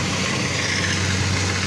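A motorbike engine used to haul harvested rice in a field, running at a steady low idle-like drone, close and constant without speech.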